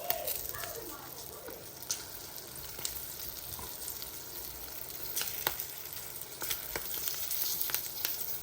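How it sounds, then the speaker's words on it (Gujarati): Green chilies with asafoetida frying in hot oil, a steady sizzle with scattered crackles and pops, moderately near and even throughout. "એમાં થોડી આપણે હિંગ નાખીશું અને મરચાં નાખીને આપણે સાતળીશું"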